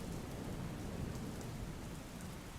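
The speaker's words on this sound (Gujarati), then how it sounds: "અમદાવાદમાં કેટલાક વિસ્તારમાં હળવો વરસાદ વરસી રહ્યો છે." Steady, even patter of light rain falling on surfaces in Ahmedabad, India, a continuous soft wash of noise with no voices.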